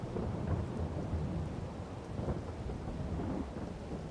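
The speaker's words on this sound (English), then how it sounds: "And some nice thunder sounds." Continuous rain with low rumbling thunder rolling underneath in the video game Farming Simulator 22, a steady wash of noise at moderate volume with no voices.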